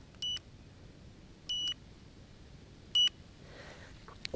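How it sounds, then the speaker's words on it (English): An electronic fishing bite alarm at an overnight carp fishing session beeps three times, each a short, loud, tonal beep a second or so apart, over a quiet outdoor background with a faint rustle at the end. "Beeping machine."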